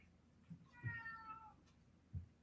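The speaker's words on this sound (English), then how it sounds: "We hear Oliver meowing" A cat meows several times at close range, a short harmonic mew in the middle surrounded by a few soft low thumps and light room noise, with no talking.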